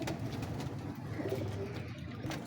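A large, sturdy pigeon cooing softly and low among faint background noise, a few muffled coos spread across a couple of seconds.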